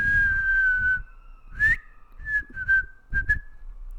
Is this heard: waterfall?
no